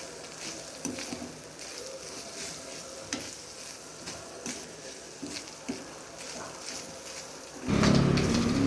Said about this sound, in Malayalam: തേങ്ങ നല്ലപോലെ വറക്കണം കേട്ടോ